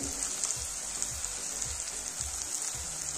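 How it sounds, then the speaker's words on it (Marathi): Red chilli powder, turmeric, coriander powder, pav bhaji masala and salt fry in a pan on low heat for masala pav, a soft, steady sizzle with faint rhythmic stirring scrapes and no talking. "मसाले एकदम मस्त असे परतून घेऊ"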